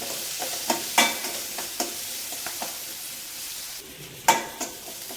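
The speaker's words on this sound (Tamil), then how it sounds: "இது நல்லா வெங்காயம் வதங்கணும்" Onions and crushed garlic sautéing in a pan, giving a continuous sizzle broken by several sharp spatula scrapes and stirs at irregular intervals, close up with no talking.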